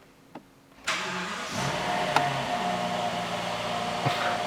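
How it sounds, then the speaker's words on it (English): A Rolls-Royce Ghost V12, bought sold-as-seen, cranks with a short starter whir after a faint click, catches quickly and settles into a smooth, steady idle, close and clear with no talking. "just hear that V12 sound"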